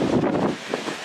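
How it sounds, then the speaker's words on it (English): Gusty outdoor wind on a wet day after rain rushes loudly across the microphone in a short, roaring burst that eases toward the end. "Windy."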